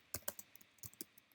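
Keys on a computer keyboard clack in short, uneven bursts of a few quick presses, close and fairly quiet against a silent room.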